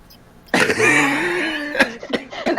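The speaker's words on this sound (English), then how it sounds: "he lets out like a furious cough as like soot expels from his nostrils and his throat" A person coughs harshly and furiously, one long strained rasping burst followed by a few shorter sharp coughs, close and loud.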